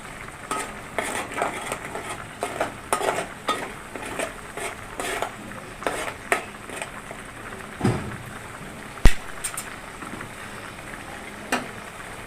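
Onion, tomato, ginger and garlic fry in a pan on a gas stove, giving a soft continuous sizzle broken by frequent clinks and scrapes of a spoon stirring against the metal.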